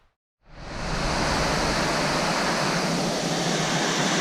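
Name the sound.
Illinois River flowing below bridge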